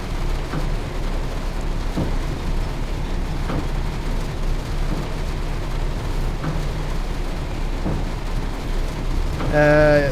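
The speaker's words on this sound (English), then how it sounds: "This rain really isn't giving up." Steady heavy rain in the railway simulator Train Sim World 4 hisses throughout with a low rumble and faint periodic thumps beneath it. A short horn-like tone rises near the end.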